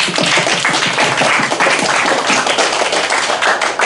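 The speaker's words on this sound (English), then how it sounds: "So let's give the gold dust a final round of applause." A debate audience gives a final round of applause, dense, continuous clapping from many hands that stays loud and even from start to finish.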